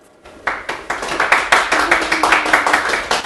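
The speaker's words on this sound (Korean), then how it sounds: "큰 박수로 맞이하겠습니다" An audience at a Gangwon educators' mission society conference breaks into applause to welcome a speaker. After a moment of quiet, the clapping starts and quickly swells into dense, energetic rhythmic clapping close by.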